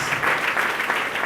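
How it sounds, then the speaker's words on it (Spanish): Loud, dense applause fills a church congregation throughout, a steady wash of many hands clapping with no speech over it. "hónrale a tu Dios con una fuerte ofrenda de aplauso"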